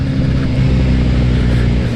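A Kawasaki Z900 motorcycle accelerating hard, its engine note loud, close and steady throughout the two seconds with a dense low growl and no talk over it.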